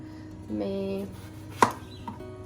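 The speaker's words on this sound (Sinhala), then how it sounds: "මම පාස්තා සලාඩ් එකට වෙජිස් ටික කපන්න යන්නේ." Vegetables for a pasta salad being chopped on a board, a few knife strikes with one sharp loud chop near the middle and a fainter one after, close and otherwise quiet.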